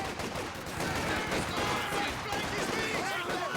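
Rapid bursts of small-arms gunfire from penal troops in Company of Heroes, a dense continuous crackle of overlapping shots throughout with the battle din.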